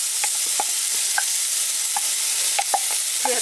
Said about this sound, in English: Just frying up this shredded faux chicken.